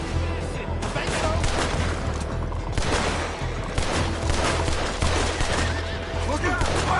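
A cowboy shootout in a video game, set around a saloon in a city, rattles with dense overlapping gunfire, loud and continuous throughout, under a bed of low rumbling battle noise.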